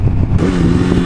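Motorcycle engine heard from behind the bike, a steady, fairly loud running drone with a mechanical clatter, close and continuous with no talk.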